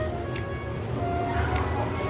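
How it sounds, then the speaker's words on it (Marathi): Water is poured bowl by bowl into a pot for a traditional Agri sweet dish, a soft gurgling splash of liquid filling the pot, close and moderately quiet with faint squishy drips. "आपण कणी घेतली त्याच वाटीने पाणी मोजून घेतोय।"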